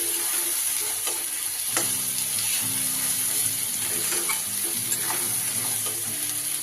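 Mashed dried fish being stir-fried in a pan, a loud continuous sizzle and hiss with constant stirring and scraping throughout, no voices.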